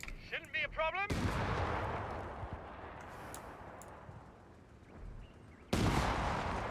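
Artillery and gunfire in Company of Heroes 3, with heavy booming blasts and a long rumbling roar, a lighter crackle of shots mid-way, and another loud hit at the end; a short burst of voice chatter opens it.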